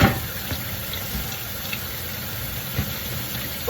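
Scalding hot water running steadily from a tap in an RV for cleaning grease, a continuous hissing splash at moderate level with a faint low hum underneath, no talking.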